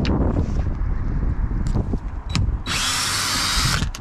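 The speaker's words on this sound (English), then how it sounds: "Then you're gonna want to take these 4 bolts out. They're 10 millimeter. You need a 10 millimeter socket." A power drill with a 10 mm socket spins out bolts under a Tesla Model Y, short clicks and a few brief bursts before a loud, steady whir for over a second, with wind noise throughout.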